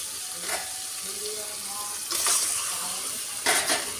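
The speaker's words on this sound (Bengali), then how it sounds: "মশলা থেকে তেল ছেড়ে এসছে, আমি এরপরে এর মধ্যে মাংসটা দিয়ে দেবো।" Chicken pieces go into spiced masala in oil for a chicken curry, giving a steady close sizzle with brief louder bursts of hissing and stirring around the start, middle and end.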